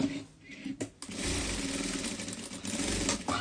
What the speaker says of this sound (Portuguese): Vai costurar aqui a volta toda